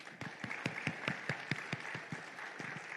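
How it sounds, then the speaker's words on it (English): Sparse applause for an ambassador at a defence and security dialogue in Thailand, a modest scattering of distinct hand claps in an uneven rhythm, fairly faint and short-lived. "Big round of applause for the ambassador."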